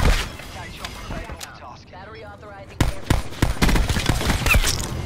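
Pistol fire in Call of Duty: Black Ops 4: quieter game sounds and a talking voice give way to a rapid, uneven string of sharp, close shots in the second half.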